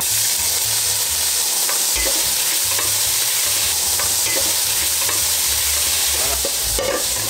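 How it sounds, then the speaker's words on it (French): Loud, steady sizzling of smoked pork belly frying in smoking-hot oil for coq au vin, a continuous crackling hiss with occasional pops and scraping stirs. "Quand ça fume, on n'attend pas plus, on met la poitrine fumée."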